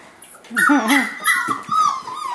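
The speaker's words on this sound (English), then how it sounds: "Is this a puppy attack?" A puppy whimpers and whines close up in rising, wavering squeals, with a few short yips mixed in.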